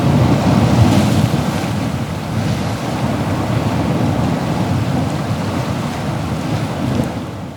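Stormy Alaskan sea in freezing conditions, heavy surf and gusting wind roaring continuously and loudly, with a crab pot hauled from the water and no voices present.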